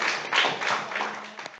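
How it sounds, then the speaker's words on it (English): Applause from a small audience at a student club meeting welcoming a speaker, a brief dense patter of overlapping claps that swells and stops abruptly. "So a round of applause for Dom"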